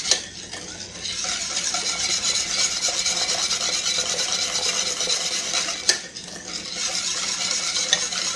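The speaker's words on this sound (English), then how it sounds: "You do have to stir a lot when you're cooking this" Banana pudding custard of milk and egg yolks stirred steadily in a pot, a continuous close rasping scrape of the utensil against the bottom with a couple of sharper knocks, no voices.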